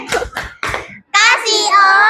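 Children in a classroom give a few quick bursts of clapping, followed by loud children's voices chanting together up close.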